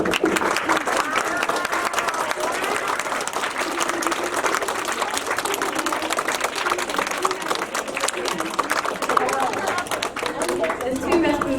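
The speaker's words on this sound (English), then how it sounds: "So should we have a round of applause for our teachers?" Children applaud their teachers during a school visit, a crowd of steady, lively clapping lasting over ten seconds with voices chattering and cheering underneath.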